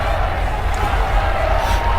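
A large crowd cheers steadily as the newly elected Pope waves from the loggia, a distant wash of massed voices with commentary spoken over it.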